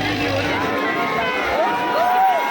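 Dense crowd at the Hariyali Amavasya fair in Udaipur near Fateh Sagar, a continuous babble of many voices with some shouts and a whistle-like rising tone, loud and close throughout.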